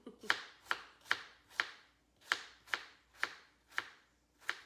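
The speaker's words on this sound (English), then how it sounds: "I feel real professional over here with my slicing and dicing" A knife chops through apples on a cutting board, about ten crisp, evenly paced thuds, close and fairly quiet, with no voices.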